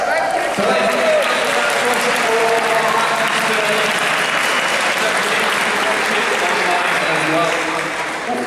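A large audience at a live stage event gives dense, sustained applause that holds at full strength for several seconds, with a few voices mixed in, before tapering slightly at the end.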